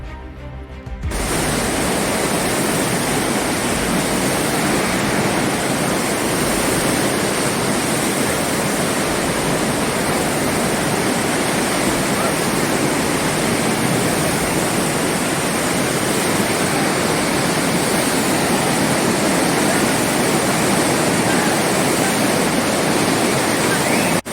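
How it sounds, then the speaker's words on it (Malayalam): Loud, steady roar of a flash flood surging down the Punnapuzha river at Chooralmala after heavy rain, a dense torrent running nonstop for the whole stretch with no pauses. "പുന്നപ്പുഴയിൽ മലവെള്ളപ്പാച്ചിൽ"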